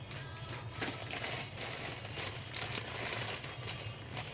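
Plastic bags crinkling as vintage He-Man and Masters of the Universe action figures are handled, a steady close rustle and crackle with scattered sharper crackles throughout.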